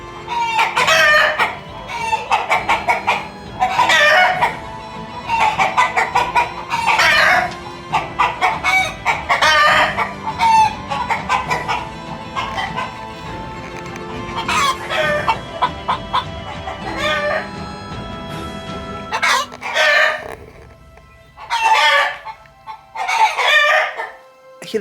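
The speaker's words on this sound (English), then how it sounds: "I told you he was a good rooster." A farmyard rooster crows loudly several times over steady clucking of hens, repeated bursts close by with brief pauses between calls.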